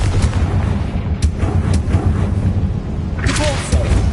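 Confringo, an explosive spell in Hogwarts Legacy, goes off as a deep booming rumble with several thumping impacts, a loud sustained low roar and a brief bright flare near the end.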